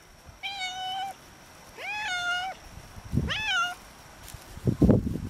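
A Siamese cat living outdoors on a farm meows three times in clear, drawn-out calls with gaps between them, close and alone, followed by a couple of faint rustling bumps.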